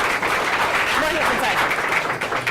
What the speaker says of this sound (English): So please welcome them with a warm round of applause.